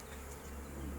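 Agitated honey bees buzz around a hive frame, a dense, steady drone that stays faint and continuous throughout.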